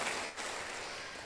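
A church congregation applauds in a steady wash of close, dense clapping that fills the short moment without pause.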